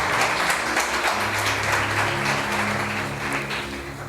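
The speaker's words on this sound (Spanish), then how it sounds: "Dale un aplauso al Señor fuerte en esta mañana." A church congregation applauding loudly during a live Sunday morning service, a steady dense wash of clapping throughout with sustained organ or keyboard chords underneath.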